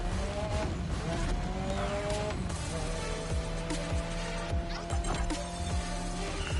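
A car spinning out in The Crew Motorfest racing game, engine revving and sweeping pitch as the car slides, with tire squeal and scraping impacts, while someone talks over it.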